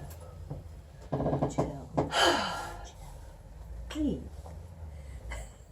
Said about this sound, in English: so I need to get my breath